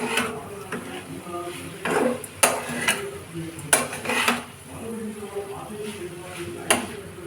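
Spiny gourd and potato frying in a pan while a utensil stirs and scrapes, giving intermittent metallic clinks and knocks over a soft background sizzle, with a person talking throughout.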